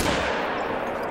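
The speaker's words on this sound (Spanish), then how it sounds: "apuntamos y disparamos" A single gunshot from a hunting rifle in theHunter: Call of the Wild, a short broadband crack that fades into a dull rumbling tail.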